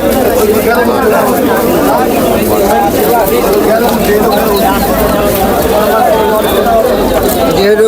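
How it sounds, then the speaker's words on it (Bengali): Pigeons coo at a busy Tebaria pigeon market, their calls mixed into steady crowd chatter and nearby voices throughout. "ওই যে ওটা তো কোকা ডাকতেছে ওই যে"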